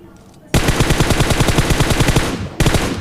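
Rapid automatic gunfire from PUBG Mobile erupts after a quiet half-second, a loud continuous burst of closely spaced shots, then a brief dip before another burst starts.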